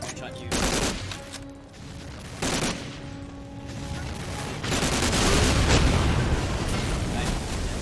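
Explosions and gunfire fill a Medal of Honor Allied Assault battle: loud booming blasts at irregular intervals over sustained bursts of shooting, building to a dense, rumbling barrage toward the end.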